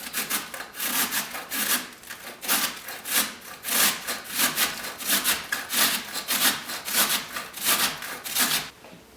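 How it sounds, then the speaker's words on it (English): A wedge of cabbage is grated on the large holes of a box grater, giving a steady run of rhythmic, scratchy rasping strokes, a couple per second, close up and fairly soft. "You want to use the large holes on the box grater."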